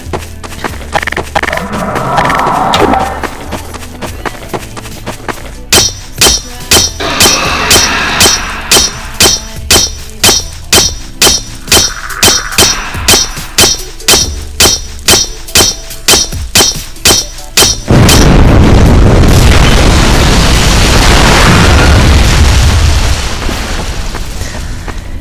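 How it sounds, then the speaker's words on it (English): An antlion mound being smashed in Garry's Mod: a long rapid run of loud, even metallic clanks and hits, then a heavy rumbling crash that lingers before fading, over a constant game background, no talk. "Now I'm gonna walk over here and destroy this antlion mound."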